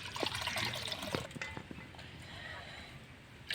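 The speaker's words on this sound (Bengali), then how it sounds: "এবার দিয়ে দেবো জল, আলু আর মুসুরির ডাল সেদ্ধ করার জন্য" Water is poured into a cooking pot on a lit stove to boil potatoes and red lentils, a steady liquid trickle and splash with a few sharp drips, close by and fairly quiet, with no talk.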